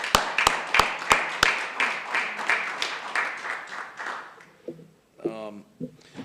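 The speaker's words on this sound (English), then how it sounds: "Let's give them a round of applause." Audience applause at an Essex County commissioners' meeting: a few sharp, distinct claps up front swell into steady room-filling clapping that gradually thins and fades, and a voice starts talking at the end.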